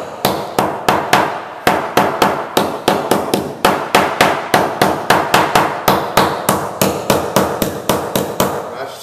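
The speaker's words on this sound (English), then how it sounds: "Do a little more tapping on it." Rapid hammer taps strike a 1946 Chris Craft Brightside U22 wooden boat hull during a Dutchman repair with epoxy, a close series of sharp knocks in quick bursts with brief pauses between runs.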